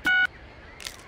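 Phone keypad tones in the video game LEGO City Undercover: one clear electronic beep, followed a moment later by a fainter, shorter chirp, set against quiet background.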